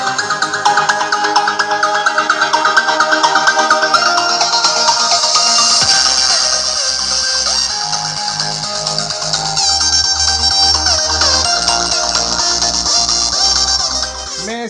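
Test music plays through an 8-inch mid-bass woofer driven by a 5200 amplifier: a bright, tonal melody, then punchy rhythmic bass pulses entering partway through, loud and steady with no talk.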